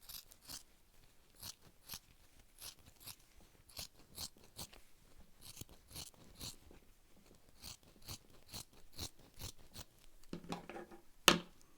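Scissors snip through underlay fabric in a steady series of crisp, close cuts, quiet and unaccompanied, ending with a sharper clack.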